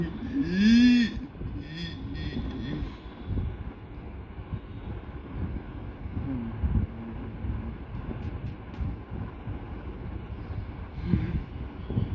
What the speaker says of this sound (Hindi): हवा चल रही है आज बहुत